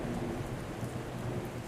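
Steady rain falls with a continuous hiss while low thunder rumbles in the background, faint and unbroken, with no voices.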